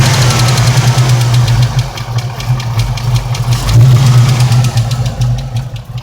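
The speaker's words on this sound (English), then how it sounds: "At least it goes right back to where it's supposed to be in idle." A 1980 Chevrolet Malibu Classic wagon engine, fitted with a BBK throttle body, runs at a steady idle, a loud, close, low rumble with a light ticking rhythm that holds even throughout.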